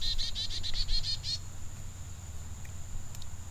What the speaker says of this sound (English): Got a little bird visitor here.